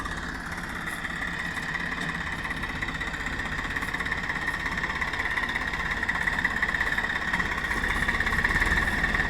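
Swaraj 742 XT tractor pulling a heavy cultivator, its diesel engine laboring in a steady throbbing drone that grows slightly louder toward the end, moderately close, with no voices.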